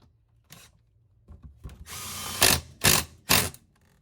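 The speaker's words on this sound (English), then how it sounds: "you don't want to over tighten them if you're using a drill" A power drill drives screws into a plastic cat door being fitted into lap siding, giving about four short, loud whirring bursts, the last three sharp and evenly spaced, with quiet handling noises before them.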